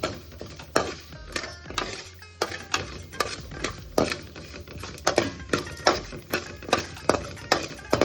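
Urad dal and grated coconut frying in a pan for peanut sundal, with a soft sizzle under repeated sharp scrapes and taps of a spatula stirring against the pan, close and without speech.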